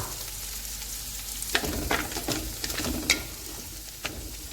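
Peas and carrots cook over low heat in a pan for pulao, giving a soft, steady sizzle with occasional scraping clicks of stirring, close and fairly quiet.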